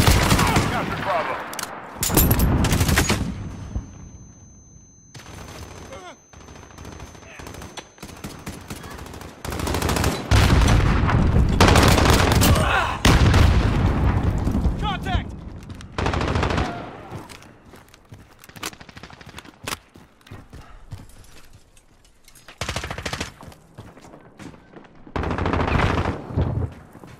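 Loud bursts of automatic gunfire and blasts from a grenade explosion in Call of Duty: Modern Warfare team deathmatch/domination play, coming in repeated heavy volleys through most of the stretch, with brief in-game voice callouts mixed in.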